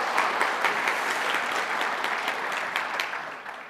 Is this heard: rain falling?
no